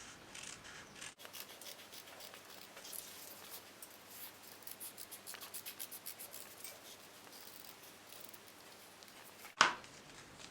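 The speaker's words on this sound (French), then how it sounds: "c'est maintenant que je coupe sur mon trait." Scissors cutting through fabric appliqué along a traced line, a steady soft snipping and rubbing texture that runs for several seconds, quiet and close, ending in a sharp click.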